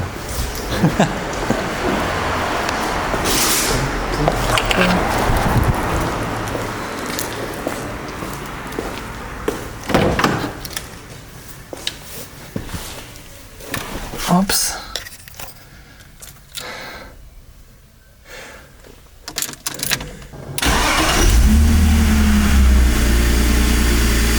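BMW M54 inline-six starting up for a test run after a valve cover replacement, with key jangling and footsteps before a cranking start and a steady loud idle closing out the final seconds.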